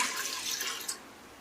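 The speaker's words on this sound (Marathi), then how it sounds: "त्याच्यामध्ये मी हे दोन ग्लास पाणी घालते" Two glasses of water poured into a cooking pot in a home kitchen, a brief steady splashing pour that tapers off, fairly quiet and alone.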